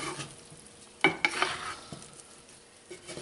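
Homemade chorizo fries in a skillet, with a couple of brief bursts of sizzling and stirring midway over a soft, steady background hiss.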